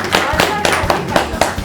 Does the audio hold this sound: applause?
yes